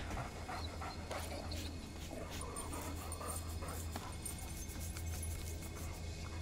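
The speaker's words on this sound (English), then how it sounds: "You can pet the dog!" A dog in the video game Remnant: From the Ashes pants steadily and close while being petted, a continuous rapid breathing rhythm with faint whimpers over a low game hum, no talking.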